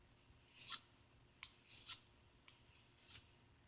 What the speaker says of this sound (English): I got hand sharpen my scissors here.